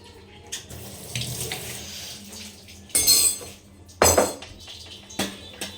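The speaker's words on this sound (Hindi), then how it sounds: "और यहाँ पे ले लेते हैं हम ठाकुर जी का कटोरा, इसको धुल देते हैं।" Tap water runs into a sink while a small bowl and spoon are washed, a steady trickle broken by several sharp splashes and clinks of dishes, close and fairly quiet, with no talking.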